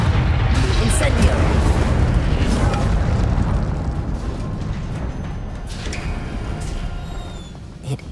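A roaring, rumbling fire-spell burst from the video game Hogwarts Legacy, heavy low booming that swells and then slowly fades, with a few sharp crackles and a voice speaking over it.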